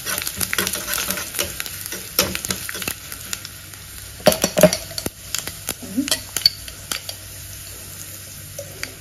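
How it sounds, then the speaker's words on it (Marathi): Finely chopped garlic, three cloves, frying in oil until golden for a green chilli and spring onion brinjal bharit, with a steady close sizzle broken by sharp clinks and scrapes of a spoon against the pan. "आता तेलात ना सोनेरी कलरवर भाजून घेऊया"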